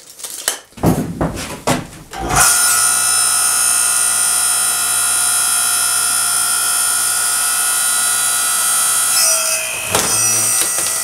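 A Harbor Freight Central Machinery 5 ton log splitter splitting a roughly 12-inch log: a few knocks and clatter, then a loud steady whining drone from its motor and hydraulics that holds for several seconds with a small dip near the end.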